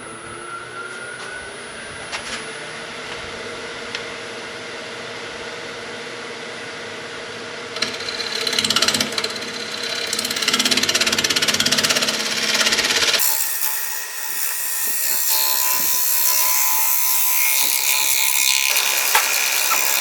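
A wood lathe spins a punky black gum natural-edge bowl, giving a steady mechanical whir with a high tonal whine. It grows louder and rougher partway through, then settles into a sustained hum.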